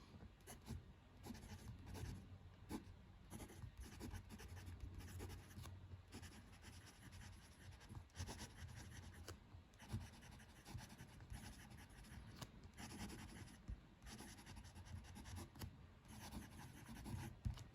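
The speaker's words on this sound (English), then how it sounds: "Let's do some writing." A fountain pen loaded with earthy green Diamine ink scratches steadily across paper, close and continuous, with small strokes and pauses between words and no talking.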